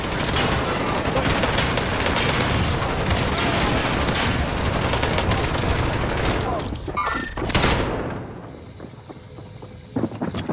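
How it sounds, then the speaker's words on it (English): A light machine gun in Warzone fires through a wall: loud, sustained automatic bursts for about seven seconds, then they stop, leaving quieter game noise and a few late impacts. "LMG boy blasts him through the wall"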